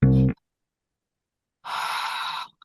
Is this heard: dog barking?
no